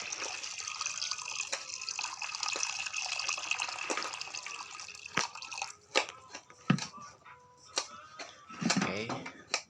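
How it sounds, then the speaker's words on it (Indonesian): Water poured over kerupuk crackers to soak them for seblak: a running trickle at first, then intermittent splashes and drips of varying strength, close by in a kitchen. "Kerupuknya kita rendam dulu di pakai air ya"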